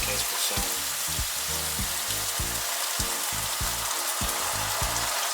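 Cream sauce made with 15% cooking cream sizzles steadily in a frying pan, a loud continuous bubbling hiss with rhythmic low scraping from stirring throughout.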